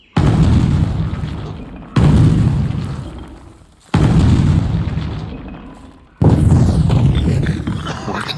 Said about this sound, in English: There's a lot of like gunfire right now.